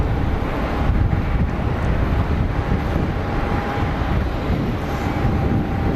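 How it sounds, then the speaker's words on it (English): A CRJ regional jet comes in to land at Geneva Airport, heard as a loud, continuous roar of engine noise with wind buffeting the microphone throughout, no voices. "CRJ over IKEA, over the Route de Meyrin, over the numbers."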